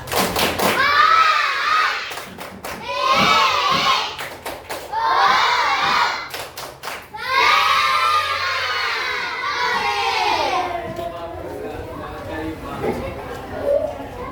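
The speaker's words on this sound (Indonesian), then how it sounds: "sekali lagi tepuk semangat" Fourth-grade pupils in an elementary school classroom do a rhythmic spirit clap, with bursts of sharp claps in unison alternating with loud children's shouting and chanting. An adult voice is heard among them.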